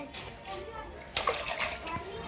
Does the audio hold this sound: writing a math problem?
no